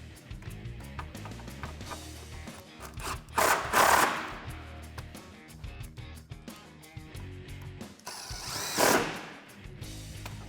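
A power tool tightens the factory 10mm bolts on a 2010-2012 Mustang projector headlight, giving close buzzing ratchety bursts that rise into two louder whirring peaks among mechanical clatter.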